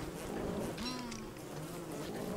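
A steady buzzing drone of bees in the video game Don't Starve: Reign of Giants, with a faint wavering tone on top, continuous and fairly quiet against a constant background hum.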